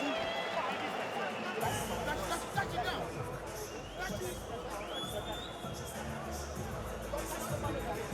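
Standing-room-only boxing crowd at the Almaty Arena roars and chatters continuously between rounds, a dense near hubbub of many voices with occasional louder shouts throughout.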